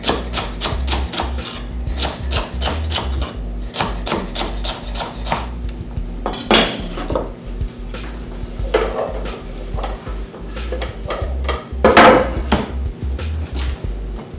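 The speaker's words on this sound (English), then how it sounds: "I'm going to roughly slice the carrots and the celery." A knife roughly slicing carrots and celery on a cutting board for butternut squash soup, giving fast, steady, loud chops in a continuous rhythm with occasional heavier knocks, and no talking.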